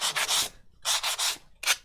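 Fine sandpaper rubs back and forth in short, close strokes, three quick scratchy passes separated by brief pauses, with no talking.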